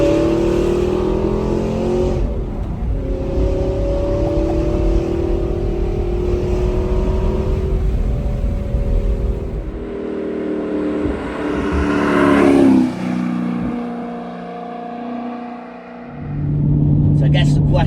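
An Audi R8 V8 engine, manual gearbox, revs loud and close in rising and falling sweeps, dropping to a lower rumble between blips before surging again. A voice talks over parts of it.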